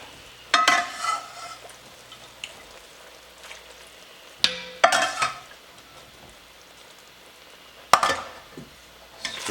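Risotto rice simmering in broth in a pot, with a quiet bubbling sizzle under sharp clinks and scrapes as a ladle adds broth and stirs in three separate bursts.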